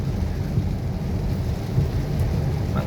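Steady rain pours in a continuous wash with a low rumbling undertone, constant and fairly loud throughout with no voices.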